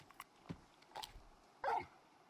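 Torgal, the wolf-like dog in the video game Final Fantasy XVI, gives a few short, soft yips and huffs, then one louder bark near the end, over quiet in-game ambience.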